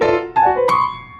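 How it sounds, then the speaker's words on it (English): A piano plays a few sustained notes one after another, clear and close with no talking. "This is a piano."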